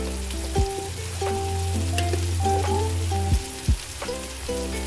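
Tomatoes with a chili, ginger and garlic paste sauté in a pan for a dried-anchovy sambal, giving a steady close sizzle with a few scraping stirs and clinks of a utensil against the pan.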